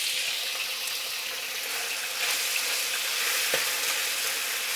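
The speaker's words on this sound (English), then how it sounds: "So I'm gonna add the beef in." Beef hits hot oil in a wok and sizzles and fries steadily and close up, a dense crackling hiss that runs throughout with no talking.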